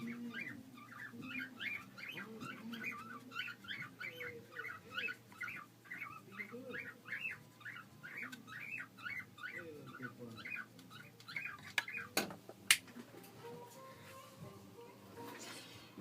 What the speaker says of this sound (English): Yeah, my bird's on one.